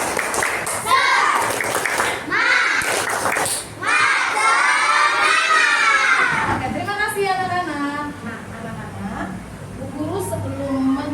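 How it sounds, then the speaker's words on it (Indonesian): A class of children shouts a rhythmic clapping chant together, with bursts of clapping and excited voices in a loud, echoing classroom. "Kita tepuk semangat bersama-sama. Tepuk semangat."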